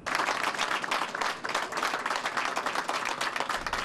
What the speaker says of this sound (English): Police officers lining the entrance to Methodist Hospital applauding 16-year-old Kyla Sobers-Batiz